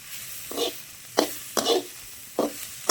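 Grated carrot for carrot halwa is turned in oil with a spatula, giving five distinct scraping strokes at an uneven rhythm over a soft background sizzle, close up and without talk.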